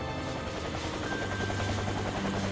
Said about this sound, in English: The helicopter continues towards the mainland.